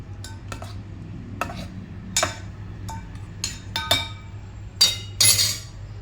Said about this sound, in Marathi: आता हे आपण हलवून घेऊयात छान